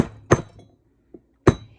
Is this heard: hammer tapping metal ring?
yes